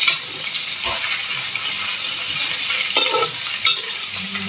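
Chicken sizzles steadily in a hot pan while a spoon stirs and scrapes, with occasional clinks against the metal.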